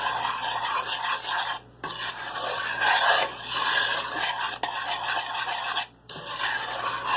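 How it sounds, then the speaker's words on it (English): Egg stirred quickly into a warm lemon curd mixture in a pan, rhythmic close scraping and rubbing strokes with two brief pauses, no one talking. "You want to stir it in quickly before it has the chance to scramble."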